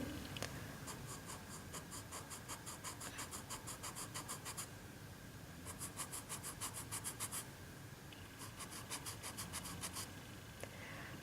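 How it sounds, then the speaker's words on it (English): A Derwent pencil eraser rubs back and forth on paper in quick bursts of short scratchy strokes, with a brief pause between two main runs; close and fairly quiet, with no talking. "Next thing I'm going to try is the Derwent pencil eraser"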